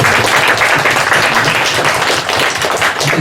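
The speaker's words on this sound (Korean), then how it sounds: "박수 좀 한번 해주시면 좋겠습니다" A church congregation at a Sunday service claps loudly and steadily for a deacon, a thick, sustained roar of many hands close by, holding its level with only a slight dip near the end.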